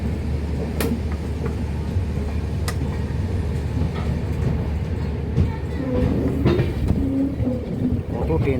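A Krishnanagar–Sairang Express, AC two-tier coach, rolls into Kamakhya Junction in Assam, giving a steady rumble with sharp clanks and clicks from the wagons and a brief squeal near the end.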